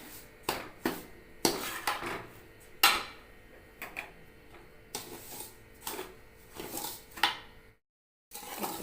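A spoon stirs powdered sugar and cardamom into a rava laddu mixture in a metal pan. It makes close, intermittent scraping and clinking strokes about once a second, with a brief silent gap near the end.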